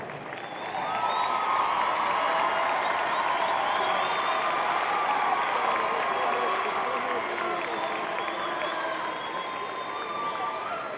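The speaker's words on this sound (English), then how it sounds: "Please join me as Emery Jones from UHSAA in congratulating these young men with a warm round of applause" A crowd applauds and cheers for a high school boys' basketball team at a state tournament, with loud, sustained clapping and voices mixed throughout, filling a large gym.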